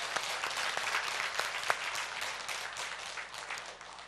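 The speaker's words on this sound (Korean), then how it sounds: "여러분 격려의 박수 한번 합시다" A church congregation at a Sunday morning service gives a round of encouraging applause, with many hands clapping in a dense, even patter that sounds soft and somewhat distant and tapers slightly at the end.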